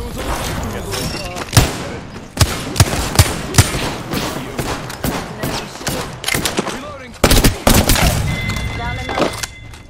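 Gunfire rattles through a video game arena match in loud, repeated bursts and single shots, mixed with thuds and booms, while voices talk underneath.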